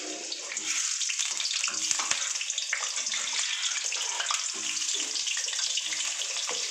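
Potatoes fry in hot oil in a wok in a home kitchen, giving a steady, dense hiss with small crackles throughout. The sizzle is close and continuous, with no talking.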